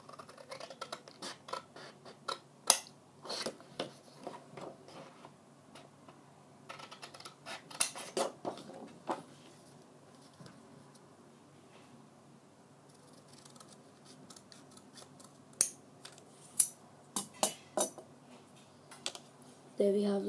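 Scissors snipping paper rectangles, sharp isolated cuts in small clusters against a quiet background, close and fairly faint.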